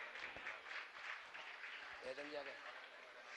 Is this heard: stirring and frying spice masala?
no